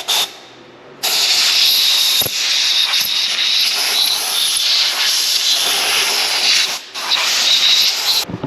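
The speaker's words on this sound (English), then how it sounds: "Engine degreaser. Let's see if it just helps break all the crud up a little bit." Engine degreaser is sprayed onto the ways of a Bridgeport milling machine in long, loud, close hissing bursts, broken by a couple of short pauses.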